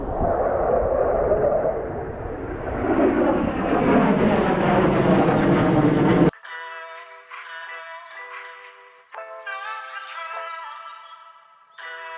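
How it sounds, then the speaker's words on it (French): A fighter jet roars overhead during a pike fishing outing, a loud rising and sweeping rumble for about six seconds that cuts off abruptly, followed by a bright tonal music-like passage. "on a le droit à un avion de chasse"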